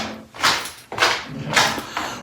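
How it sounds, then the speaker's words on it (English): Shoes peel off a tacky studio floor coated in dried champagne, making three close, crackling sticky rips in an even walking rhythm, with no talking. "that is the sound of my shoes sticking to the dried champagne"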